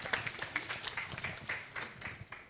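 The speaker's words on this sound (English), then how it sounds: "A big hand clap to this group." Scattered hand clapping from a small group, steady and moderately loud for a couple of seconds, with no voices over it.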